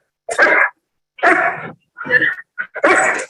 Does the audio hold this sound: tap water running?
no